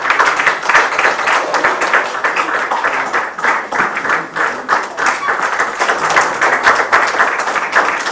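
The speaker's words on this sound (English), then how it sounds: "Let's keep clapping." Sustained, dense applause from guests at an 82nd birthday celebration and book presentation, a steady loud wash of many hands clapping close by with no break.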